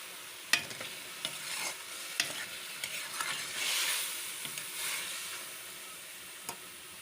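Onion paste fries in a pan for chicken karela, giving a quiet, steady sizzle with scattered stirring scrapes and occasional sharp utensil taps, and a brief swell of hissing midway.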